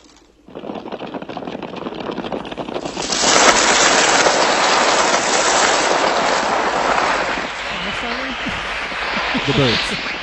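Dense flapping, fluttering and shrieking birds from the film The Birds, swelling into a loud continuous roar of wings and calls after a quieter start, with squawks emerging near the end.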